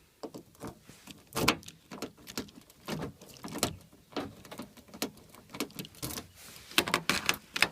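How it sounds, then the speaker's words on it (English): Someone tugs and pulls at the frozen door handle of a Nissan Xterra stuck shut in snow, making repeated thumps, knocks and creaks in an irregular rhythm, close by and with no talk. "door handles are frozen shut"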